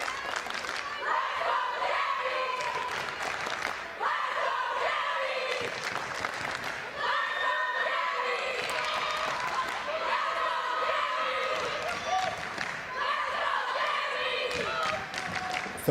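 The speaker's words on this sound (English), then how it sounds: "Crowd trying to get behind Jamila McBride." Crowd noise from spectators at a high school wrestling match, a steady roar of cheering and shouting for a wrestler trailing in the second period, heard continuously under a commentator's voice.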